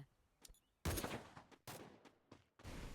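MP5 gunfire in a mobile shooting video game, rendered as three bursts of rapid shots with quiet gaps between them, heard at moderate level.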